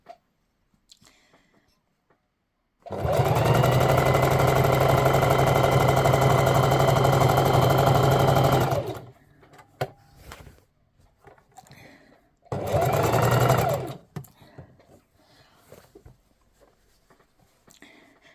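A Singer Heavy Duty 4432 sewing machine stitches a free motion quilting pass, a loud, fast mechanical hum running for about six seconds, then a second shorter burst after a quiet pause with light handling noises.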